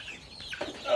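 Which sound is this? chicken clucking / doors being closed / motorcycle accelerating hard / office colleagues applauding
chicken clucking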